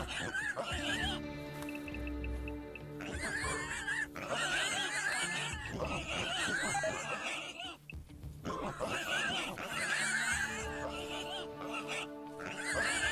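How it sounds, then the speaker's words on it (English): Wild boar squealing and grunting in the Rimworld video game, a busy run of overlapping pig calls over game music and sound effects, continuous and fairly loud throughout. "Those pigs are really having a ball."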